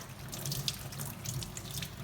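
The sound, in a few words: water running from a tap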